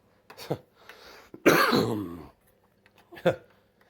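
A man coughs and clears his throat in several separate close bursts, one longer, rougher cough in the middle with short hacks before and after.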